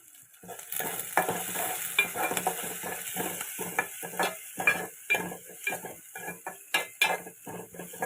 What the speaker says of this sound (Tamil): இப்போ வெட்டி வச்சுக்கிற பெரிய வெங்காயம் இதையும் கூட போட்டு ஆட் பண்ணி நல்லா வதக்கி விட்டுருவோம்